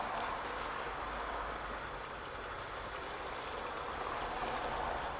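Meat, cauliflower and mint curry bubbling and simmering steadily in a pot, a continuous soft wet hiss and gurgle without pause.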